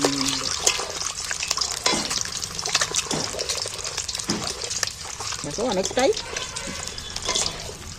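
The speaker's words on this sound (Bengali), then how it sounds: "এবার তেলের মধ্যে দিয়ে একটু হালকা করে নাড়াচাড়া করে নিই।" Egg is lightly fried and stirred in oil, giving a soft sizzle with scattered scraping and stirring clatter, close by, while someone talks briefly over it.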